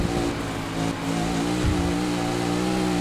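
A rally car engine drones steadily in the Dakar Desert Rally video game, a loud continuous hum with rising harmonics as it accelerates, sustained throughout without a break.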